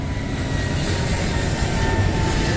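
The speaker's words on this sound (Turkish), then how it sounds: "Yine bir uçak geçti." A fixed-wing airplane passes overhead near Trabzon airport, a loud, broad continuous engine roar and rush that fills the whole moment without a break.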